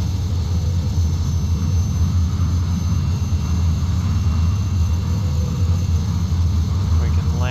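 Steady, loud drone of a Cessna 206 floatplane's engine in flight while the aircraft is on fire, a constant low rumble with airflow noise throughout, no pauses.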